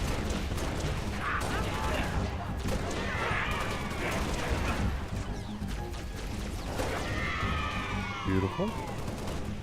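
Gunfire in Halo: Reach aimed at Covenant grunts rattles out in bursts of clattering shots and mechanical clanks, with alien chirps and a brief spoken word over a dense, loud battle din.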